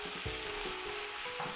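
Crispy fluffy fried catfish tossed with curry paste and peanuts in a hot pan gives a steady sizzle broken by soft stirring scrapes, close by and with no talking.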